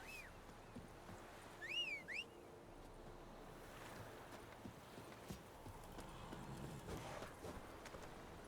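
Geralt's horse Roach trots and gallops across a field in The Witcher 3, the hoofbeats a faint, steady clip-clop under wind and ambient rustle, with a few bird chirps early on.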